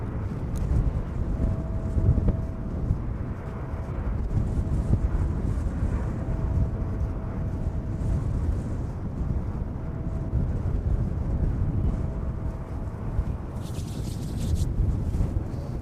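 Steady wind buffeting a microphone outdoors at an airport, a loud continuous low rumbling roar with gusty swells and no speech.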